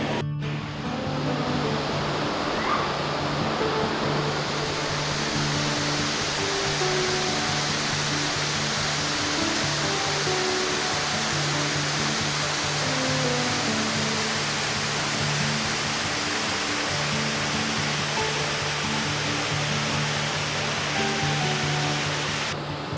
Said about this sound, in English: The white noise of the waterfall deadens any distraction